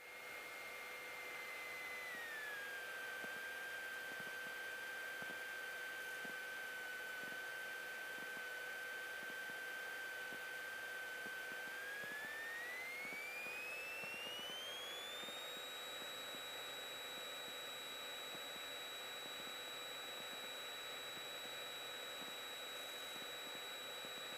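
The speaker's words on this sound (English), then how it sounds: "Clear left, clear right, we're clear for takeoff." Aircraft engines on a takeoff roll heard from inside the cabin, a loud steady roar with a whining tone that dips and then climbs sharply as power builds, with no talking.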